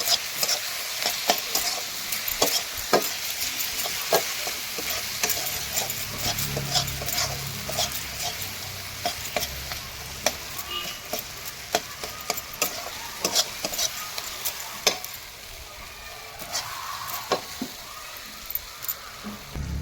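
Spiced potato and aubergine curry with tomato and masala being stirred and fried in a pan, with a steady sizzle under repeated sharp clicks and scrapes of the spoon against the pot.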